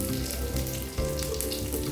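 Onions with chili powder frying in a pan for an ash gourd stir-fry, a close, steady sizzle with a faint hum underneath and a brief disturbance partway through.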